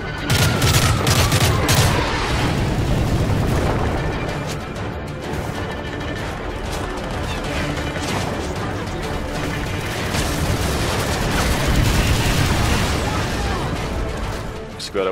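Dense, loud gunfire and crashing explosions from a Modern Warfare 3 battle in the Black Tuesday level against Russian forces, with sustained bursts rolling throughout and talk mixed in.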